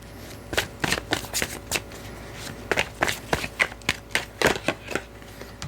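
Tarot cards being drawn and handled during a love reading, with a quick run of crisp papery slaps and flicks in irregular bursts, close and fairly quiet, and no voice over them.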